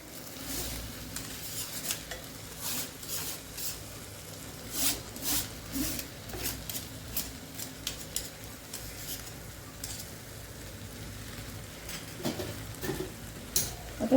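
Cooked rice gets stirred into a mango rice mixture in a pan, with soft, repeated scraping and shuffling strokes and a light background sizzle, fairly quiet and without speech.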